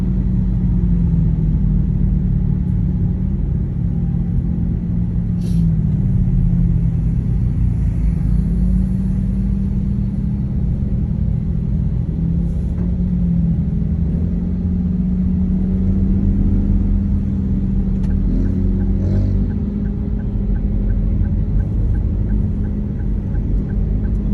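Car driving southbound in traffic on EDSA near Ortigas, low steady engine and road rumble throughout, fairly loud and continuous with little else over it.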